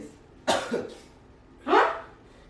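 A person coughs close by in two sharp bursts, the first a quick double cough and the second a longer, harsher one, with a quiet room around it.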